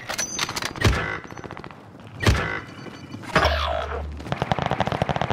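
Gunfire in a video game: scattered loud single shots with booming impacts, then a quick rattling burst of automatic fire near the end, close and punchy.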